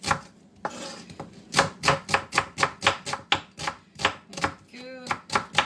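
A knife chops purple onion on a board in a quick, even run of about a dozen crisp, close taps, each sharp and separate, with a short pause near the start.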